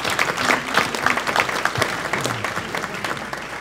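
An indoor audience claps together in a dense, sustained burst of applause at an energy presentation event, fairly close and fading slightly toward the end.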